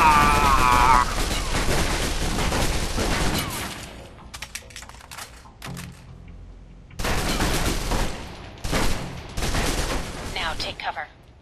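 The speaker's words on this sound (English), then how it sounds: "Now, let's move on to the submachine gun. Now let's empty the clip." Submachine gun emptying a clip on a practice range in the Alpha Protocol video game: loud, dense bursts of rapid automatic fire, with gaps between volleys and a short break, then further sustained bursts.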